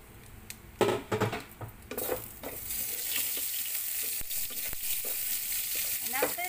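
Whole spices — cinnamon stick, cardamom, star anise, black pepper and cloves — hit hot oil for rajma masala, bursting into a loud crackling sizzle with stirring scrapes and pan clatter in the first seconds, then settling into steady frying hiss.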